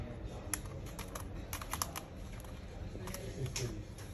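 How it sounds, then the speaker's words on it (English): Keyboard of an HP Pavilion 15-AU103TX laptop being pried and lifted out, a run of soft plastic clicks and taps at irregular intervals over a low background hum, faint and close. "now you just need to remove the keyboard"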